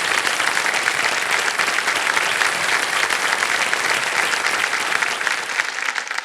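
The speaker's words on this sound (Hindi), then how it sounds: "तालियां बज जाए इनके लिए" A studio audience on the Kaun Banega Crorepati game show claps for a contestant, with dense, loud applause that holds steady for the whole stretch.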